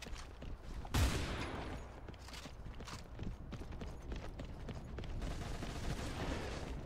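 A shotgun blast in the CrossfireX multiplayer shooter, one loud near report followed by a steady busy rattle of game action at modest volume.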